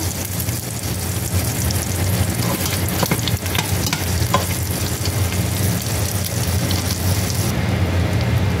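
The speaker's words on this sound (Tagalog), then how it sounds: "tunaw na yung ating butter" Butter melting and sizzling in a pan for chicken macaroni soup, a steady close frying hiss throughout with faint clinks of stirring, no voices.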